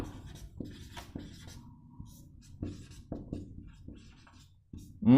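A pen writes out a geometry solution by hand, with soft, close scratching strokes and small taps, quiet and steady, with no voice heard.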